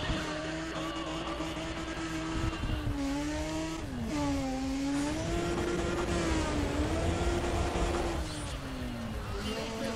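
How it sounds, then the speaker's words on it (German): Engine of a car in Need for Speed ProStreet revving up and down through gear changes, a loud continuous whine that dips and climbs again, with faint tire scrub beneath. "Der Wagen fährt ja auch einfach nicht gut"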